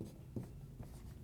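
Marker squeaks and scratches across a whiteboard while figures are written up during a talk on investing $10,000, with short strokes and one louder tap near the middle, close and fairly quiet.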